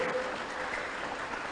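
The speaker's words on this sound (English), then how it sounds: "Round of applause, ladies and gentlemen." Brief audience applause at a university debate, a soft, even wash of clapping lasting a second and a half at moderate distance.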